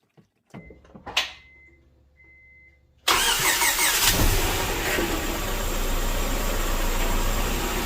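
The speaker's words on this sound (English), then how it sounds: "We're gonna start up the engine now, and let's see how this thing goes." A Honda Prelude engine cranks with a click and whir, then catches and roars to life, settling into a loud steady idle close by.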